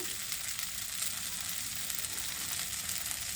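Noodles fry in a hot pan with a steady, bright sizzle while being stirred, a continuous close hiss at low volume with faint scraping underneath.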